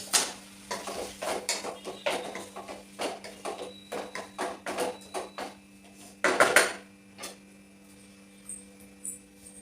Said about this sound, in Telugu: కొత్తిమీర వేసుకొని కలుపుకోవాలండి